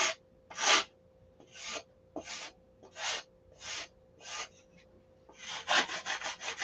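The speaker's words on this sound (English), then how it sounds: "it's time for a new piece of sandpaper" Sandpaper rubs back and forth on a wooden piece, giving a close series of about a dozen gritty rasping strokes in an uneven rhythm. Quick short strokes bunch together near the end, with quiet gaps between.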